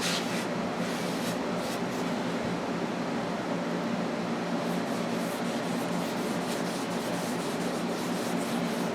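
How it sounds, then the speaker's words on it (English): A cloth rubs wood stain onto a pine board in a steady, close, continuous scratchy rasp of repeated strokes, with no voices. "Just rub a pretty good coat on there."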